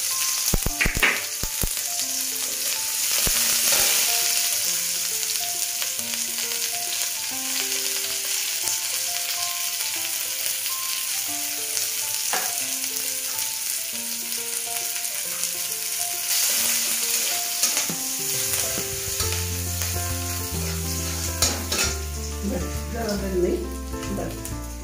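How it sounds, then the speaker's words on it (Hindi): Finely chopped onions sizzle in a little oil with mustard seeds, a steady close frying hiss with scattered pops and stirring scrapes over about twenty-five seconds, a few words spoken over it. "अनियन जो बारीक का तो रखा था वो डाल दिया।"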